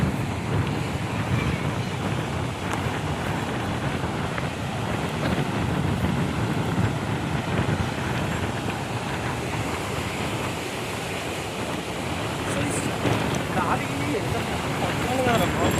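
Strong wind roars and buffets the microphone without pause at Tenneti Park beach in Visakhapatnam, with waves washing in the background.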